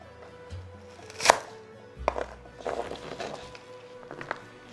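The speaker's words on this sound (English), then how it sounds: "Jalapeno peppers are cut into strips." A kitchen knife slices jalapeno peppers into strips on a cutting board, with a few sharp cuts and soft scraping as the seeds are removed, close and moderately loud against faint background noise.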